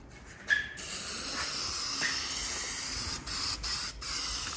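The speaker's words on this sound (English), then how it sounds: "Make sure you spray everything." A continuous hiss from an aerosol can spraying guide coat over car body work close by, with a few brief pauses and restarts.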